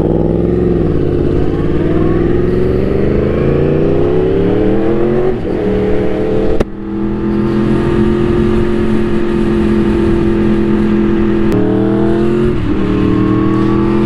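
A loud motorcycle engine holds a steady, throaty idle with a few revs that swell and dip, and the roar stays close and continuous for about fourteen seconds with no talking over it.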